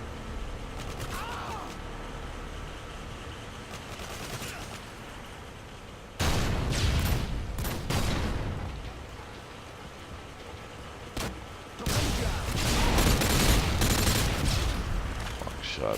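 Bursts of gunfire in a Modern Warfare 2 multiplayer match, loud clustered volleys around six seconds and again near the end, with game ambience between and a player talking over it.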